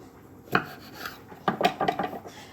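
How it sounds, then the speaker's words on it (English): A knife cuts tomatoes in half on a board, giving a few scattered knocks and scraping taps in uneven clusters, close and moderately loud. "So I'm just going to cut the tomatoes in half."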